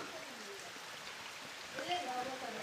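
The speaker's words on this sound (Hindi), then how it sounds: "जिसमें ऑटोमेटिक पानी गिर रहा है" Water falls steadily onto a stone serpent-deity idol at a Shiva temple in Madhya Pradesh, a soft continuous splashing with faint voices in the background.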